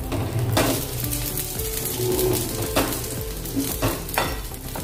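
Spinach sabzi frying in a pan gives a loud, steady sizzle close by, broken by several sharp scraping stirs of a spoon against the pan, with no talk.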